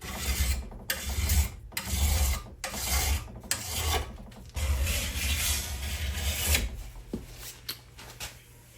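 A hand file rasps along the edge of a Husqvarna chainsaw bar to take off a burr, in repeated back-and-forth strokes, loud and close, with a few short pauses between them.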